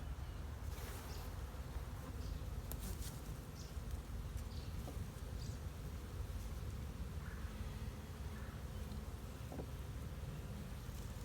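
Honeybees hum as a dense, steady drone around a newly housed swarm hive during an inspection, close and continuous, with a few individual bees buzzing past.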